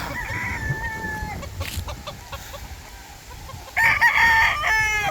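Chickens cluck and a rooster crows loudly and close by at a backyard poultry pen on a windy day, with a second burst of crowing near the end.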